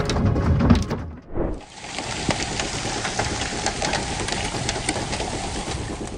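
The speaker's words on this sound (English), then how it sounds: "Hail the size of ping pong balls pelted Utah's ice cream canyon" Ping-pong-ball-sized hail pelts down in a Utah canyon, a dense, steady clatter of countless impacts that starts after a brief muffled rumble and continues unbroken.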